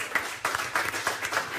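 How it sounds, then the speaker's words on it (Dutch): A crowd at a Frisian sports awards event applauds Paralympic equestrian Rikst van der Horst, a brief, moderately loud patter of hand claps swelling in uneven bursts. "Een applaus voor Amazone Rikst van der Horst."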